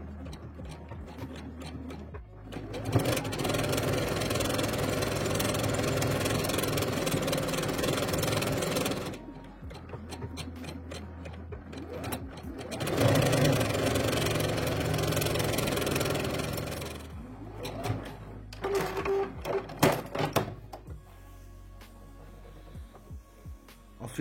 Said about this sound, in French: Je vais venir faire des surpiqûres nervures de chaque côté de mes anses.